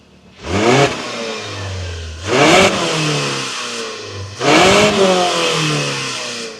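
A stationary 2025 Mazda CX-90 PHEV plug-in hybrid SUV revs hard three times, each burst climbing steeply toward 6,000 rpm and then settling back. The engine is loud, close and heard alone.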